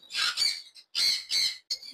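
Red-eye lovebirds at a bird market squawk loudly in four harsh, close bursts of shrill calls, ending with a shorter squawk, with no talking.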